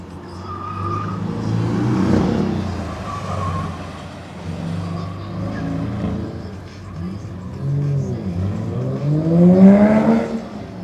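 A Porsche racing through an autocross course, its engine rising and falling in pitch with tires squealing through the turns, loud and close, with a steep rev climb near the end.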